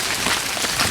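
Steady rain falling during the rainy season, a dense continuous hiss of drops striking surfaces, fairly loud and unbroken with no voices over it.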